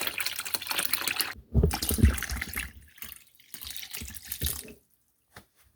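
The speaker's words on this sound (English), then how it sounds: "fill each pot with water until the vegetables are covered" Water pours from a tap into pots of vegetable scraps for stock, a splashing, gurgling flow in several bursts with short pauses between fills, close and fairly loud.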